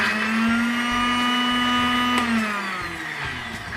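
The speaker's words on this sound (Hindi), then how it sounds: "आपने सारा मैंगो जो है वो अच्छे से ब्लेंड करना है। इसका जो पल्प है वो बिल्कुल ब्लेंड होना चाहिए।" A kitchen blender whirs through mango pulp, a loud, close, steady motor whine that holds its pitch and then sags slightly as the blades work through the fruit.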